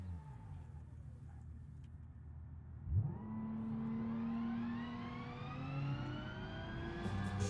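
A car engine in the video game BeamNG.drive rumbles at idle, then revs up sharply and keeps climbing in pitch as it accelerates hard in first gear, loud and close, with brief shifts.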